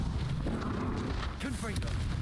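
Bombarda blasting spell in the Hogwarts Legacy video game, heard as deep booming blasts and rumble under a busy, continuous game-fight mix with swooping magical effects.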